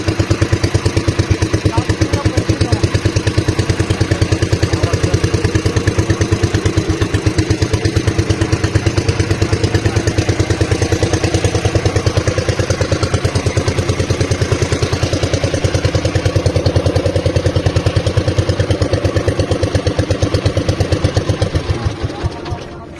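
Boat engine running on a lake at Mapanuepe in San Marcelino, Zambales, near the submerged town's church roof: a steady, loud, close mechanical drone with a rapid clattering pulse, continuous until it fades at the very end as a voice talks over it.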